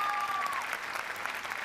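An audience gives a burst of applause for a woman being praised, dense even clapping from many hands filling the short span, with a brief tonal whistle-like sound at the start.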